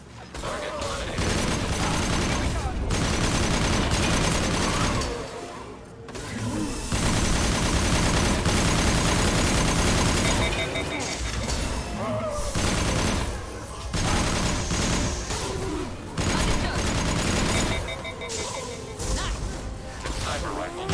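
Sniper rifle fire in Mass Effect 2 rings out among loud, dense combat noise, with heavy sustained bursts and mechanical clatter broken by short lulls, and combat voices mixed in.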